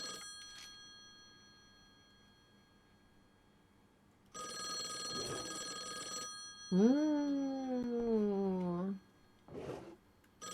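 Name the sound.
telephone ringing in a video game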